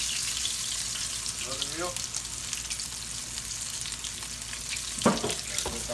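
Chicken frying in oil in a skillet, a continuous close sizzle under a brief spoken word, with a louder splash or crackle near the end.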